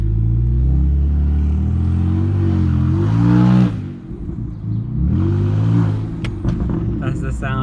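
A car with a newly installed charge pipe and blow off valve on a test drive: engine revving and accelerating loudly, then easing off with a brief airy hiss as the throttle lifts, before pulling again.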